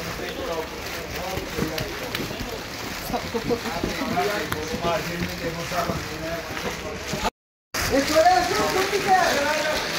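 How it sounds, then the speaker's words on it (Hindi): Steady rain patters and splashes nearby in a dense, continuous wash at Kedarnath, India, with a voice talking over it and a brief moment of silence partway through. "बारिश अभी भी बंद नहीं हुई। एक्चुअली बारिश गिर रही"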